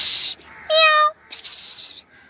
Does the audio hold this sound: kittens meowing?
yes